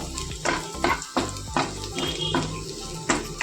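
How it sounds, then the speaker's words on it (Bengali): Onion and garlic fry for dal in a hot pan, a continuous sizzle broken by repeated scraping and stirring taps at an uneven pace, close and moderately loud. "পেঁয়াজটা আমার ভাজা হয়ে গেল রসুনটাও ভাজা হয়ে গেল"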